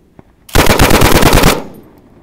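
A Bren light machine gun fires one loud, close burst of rapid shots lasting about a second, followed by a short fading echo.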